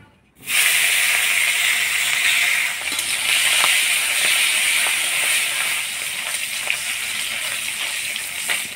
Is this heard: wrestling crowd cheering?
no